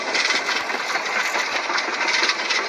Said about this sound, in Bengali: এলিভেটরে কচ্ছপের স্পিডে আমরা যাচ্ছি গাইস